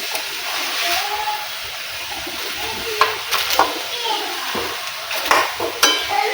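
A Gujarati onion, tomato and papad curry is stirred in a pan, with a steady sizzle of frying and repeated scraping and clatter of the spoon, close and fairly loud.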